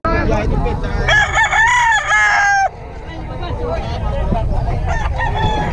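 An Ormoc Gold gamecock crows loudly and close by, one long rising and falling call, followed by lower background noise and faint farmyard sounds.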